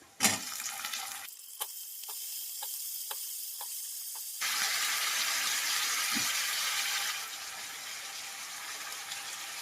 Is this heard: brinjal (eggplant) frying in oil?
yes